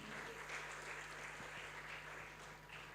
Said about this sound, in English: Can we have a big round of applause, people?